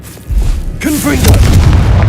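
A Confringo blasting spell in the video game Hogwarts Legacy sets off a loud, deep boom, followed by rumbling debris and swirling magical whooshes that stay loud to the end.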